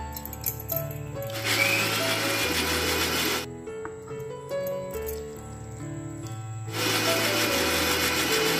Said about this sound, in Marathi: पोहे आणि ही जी डाळ आहे मुगाची ती मिक्सरला लावून घ्यायची आहे